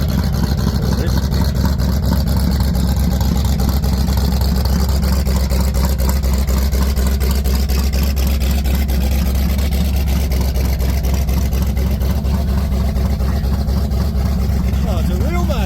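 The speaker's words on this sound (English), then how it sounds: "Oh, it's a real motor too. It's a real motor." A real engine runs at a car show, its loud, steady low rumble continuing without a break throughout, close by and dominating the scene, with a busy background underneath.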